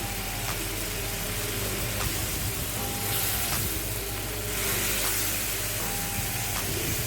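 Green chicken coated in masala fries in a pan with a steady, loud sizzle and hiss, continuous throughout, with occasional faint clinks over the frying.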